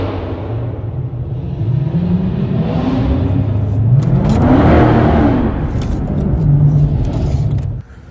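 A car at a Memphis car meet slides and revs hard, its engine note sweeping up and down in loud, close, continuous bursts for several seconds before cutting off abruptly.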